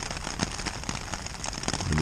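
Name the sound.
heavy rain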